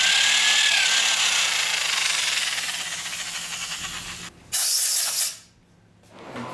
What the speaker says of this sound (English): First we're going to drill this damaged thread out to the proper size for the insert.